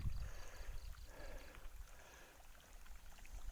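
Water runs through a newly dug canal beside a grass field, a faint, steady gurgling flow that continues throughout with no voices.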